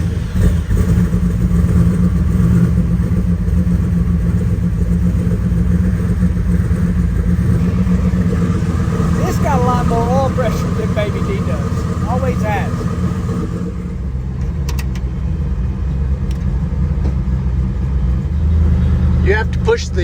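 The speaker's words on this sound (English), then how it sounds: "Cold start, here we go." A HEMI race car engine cold starts and settles into a loud, steady, rumbling idle that fills the whole stretch, with a person talking over it partway through.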